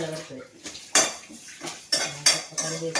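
A utensil stirs chicken frying in a pan with curry leaves, making sharp metallic scrapes and clanks against the pan in an irregular rhythm, close and loud.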